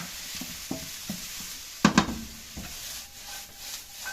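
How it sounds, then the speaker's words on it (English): Egg fried rice ingredients are stir-fried in a hot wok, with a constant close sizzle broken by scraping stirs and a couple of louder clanks of the tossing utensil. "Make sure to constantly toss them so they don't get too black on any side."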